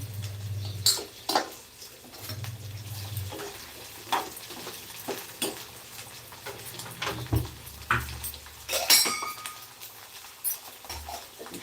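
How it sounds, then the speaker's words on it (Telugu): Fried curry leaves scraped from a pan into a mixer jar, giving light patter and soft clinks of a spoon against metal in scattered bursts, with no talking. "కరివేపాకు కూడా నేను వేయించుకొని మిక్సీ జార్లోకి అయితే తీసుకుంటున్నాను"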